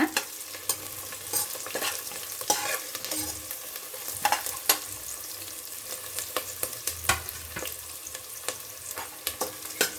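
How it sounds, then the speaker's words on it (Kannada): Mushroom pepper fry ingredients frying in a pan, a steady oily sizzle punctuated by sharp scraping clicks of stirring, close and continuous with no voices. "ನೋಡಿ, ಇದೀಗ ಫ್ರೈ ಆಗ್ತಾ ಇದೆ."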